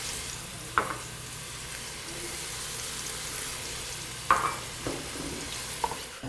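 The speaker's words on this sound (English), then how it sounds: "you're going to saute that until the onions become translucent" Onions seasoned with salt and pepper fry in a pan with an even, close sizzle, broken by a few sharp clinks and scrapes of a utensil stirring; no voices.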